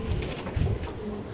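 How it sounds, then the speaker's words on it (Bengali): Pigeons coo on a rooftop, a low, soft murmuring call over a brief moment with faint background hum and no talking. "কবুতরগুলো সুস্থ আছে"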